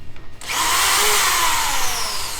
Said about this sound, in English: Drills are always dangerous.